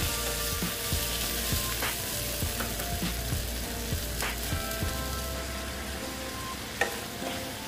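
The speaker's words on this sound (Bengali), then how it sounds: "দিয়ে এটাকে ভালো মতন আবার মশলার সাথে কষিয়ে নিচ্ছি।" Fish curry masala with green chillies being sautéed in a pan for a spicy mourola fish dish, a steady sizzle under regular scraping strokes of a spatula, close and fairly quiet, with no talking.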